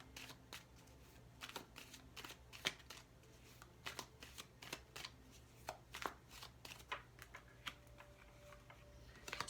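Tarot cards being shuffled in a steady series of quick crisp riffles and taps, close and clear, alone without talk.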